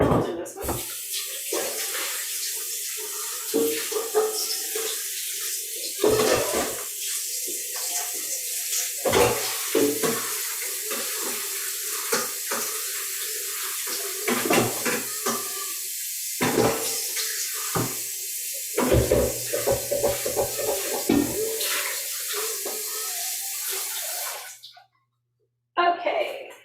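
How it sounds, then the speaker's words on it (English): Tap water runs into a kitchen sink as a bowl is rinsed, a steady close splashing stream broken by clunks and sloshes of the bowl, continuing for over twenty seconds before the flow stops. "we'll just use this one after I rinse it out."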